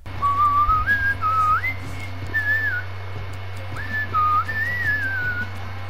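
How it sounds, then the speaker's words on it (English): A man whistles a short, bright, wandering tune in two phrases while playing a football management game, over a steady low electrical hum. "That's me whistling in game there."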